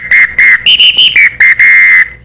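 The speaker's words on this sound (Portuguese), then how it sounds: "aquele apito manjado, né, de escola de samba." A shrill samba whistle blown in quick bursts, about nine sharp blasts with a slight pitch shift in the middle, loud and close.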